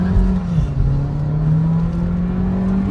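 A Volkswagen Virtus GT launches and accelerates hard while racing a Honda City, its engine droning loud and steady with a slowly rising pitch throughout.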